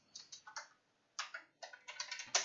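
Keys clatter on a computer keyboard while an SQLite DELETE query is typed, in short quick bursts of clicks with brief pauses between them, close and fairly quiet, with no talking.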